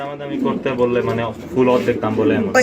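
Pigeons cooing and calling at a farm where birds are sold, a close series of throaty, rolling coos overlapping one another with short pauses, loud and continuous, with someone talking over them.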